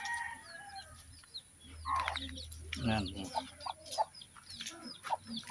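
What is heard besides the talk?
chickens clucking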